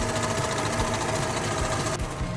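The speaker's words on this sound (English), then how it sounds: "The engine starts, but there's a funny noise coming from around the gearbox area." A running car engine makes a fast, steady chattering rattle from around the gearbox. The noise is close, continuous and mechanical, with a brief dip near the end.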